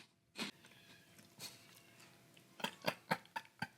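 Crunchy bites and chewing of Great Value limited edition cotton candy cereal, corn puffs eaten dry, with a loud crunch early, another mid-clip, then a quick run of five or six close crisp chews near the end.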